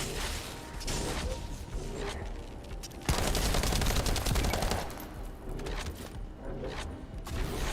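SMG fire in The First Descendant, a sci-fi looter shooter, during a boss fight, sounds as a sustained rapid rattle of shots over busy, layered combat noise, with a sharp burst midway and no speech.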